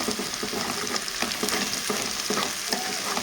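An egg fries in a pan, steady close sizzling with rhythmic scraping from stirring, unbroken and without voices.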